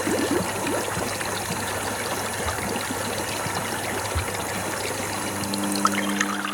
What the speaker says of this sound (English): Add the water pump.